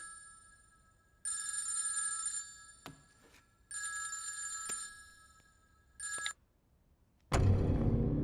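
Telephone ringing with an incoming call in a tense film scene, three bursts of bright electronic ringing separated by pauses, followed by a sudden loud, dense rush of sound at the end, with no talking.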